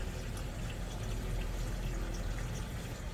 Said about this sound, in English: we're filling it through the filter because that pushes the water down and through